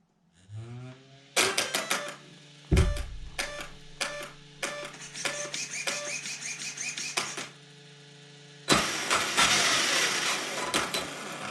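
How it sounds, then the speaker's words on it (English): An electronic startup chirp as an Arrma Felony RC car is switched back on, followed by a mechanical whirring hum with repeated sharp clicks and ticks, swelling into louder buzzing motor noise near the end. "let me turn the car off one more time and then turn it back on"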